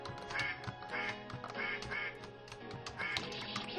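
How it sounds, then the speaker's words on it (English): Cartoonish duck quacks repeat rapidly and loudly in a platform video game, a steady series of nasal calls filling the whole stretch without any talking. "if the quacking is annoying,"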